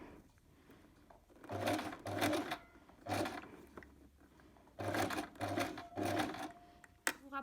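A domestic sewing machine stitches an invisible zip in short bursts of rapid mechanical whirring, about six near, clear runs separated by quiet pauses, with a brief click near the end.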